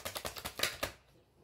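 Tarot cards being shuffled in quick close riffling taps, about eight rapid ticks in a second that then stop, with no voices over them.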